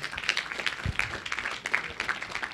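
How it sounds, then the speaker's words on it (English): A church congregation at a memorial lecture claps in scattered, moderately faint applause, uneven hand strikes rising and falling over a couple of seconds. "So you can clap now."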